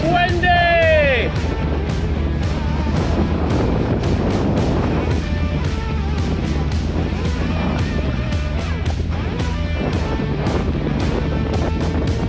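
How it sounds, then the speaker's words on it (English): Wind buffets the microphone in a constant low roar while cycling around Taiwan, with a brief whistling tone at the start and faint rhythmic clicks throughout. "It's windy!"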